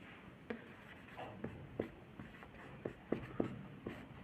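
Chalk or pen strokes scratch across a board or paper while a solution is written out, a quiet, irregular series of short scraping taps close by.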